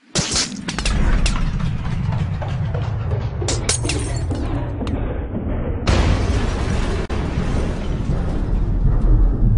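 Loud, dense bursts of gunfire and explosions fill a Magneto video game scene set on Genosha, sustained and heavy with sharp cracks, dropping briefly and then surging again.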